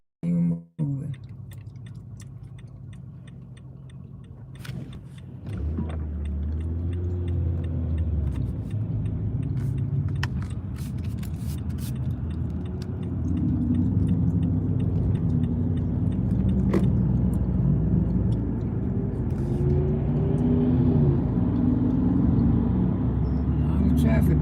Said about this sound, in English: A lot of traffic this morning.